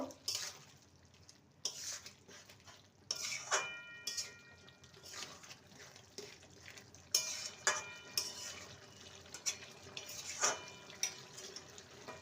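A spoon stirs a fried spice mix into boiled papaya and potato for a Bengali curry, giving repeated scraping and clinking strokes against the pan with a faint sizzle underneath, fairly quiet and irregular, without talk.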